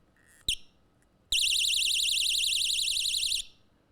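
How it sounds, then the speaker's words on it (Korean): A handheld personal safety alarm wails in a shrill, rapid warbling electronic tone for about two seconds after a short chirp, loud and close. "불빛과 함께 경보음이 크게 납니다"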